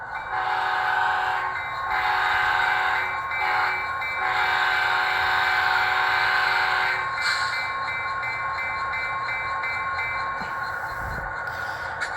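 A Soundtraxx Blunami sound decoder in a Walthers Mainline F40PH model locomotive plays its grade crossing horn sequence: loud, sustained blasts over a steady rumbling engine and rail backdrop, with a brief gap before the final horn.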